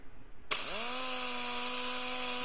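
A Quick Cut DA wet sander switches on with a sudden burst, then settles into a steady, high whirring whine as it runs on car paint, close by and alone.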